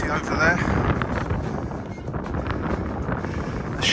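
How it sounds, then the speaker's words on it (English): Strong gusts on Primrose Hill, overlooking London, buffet the microphone with a continuous, loud low rumble and roar, steady throughout with slight swells. "It's quite windy, so hopefully you can actually hear me."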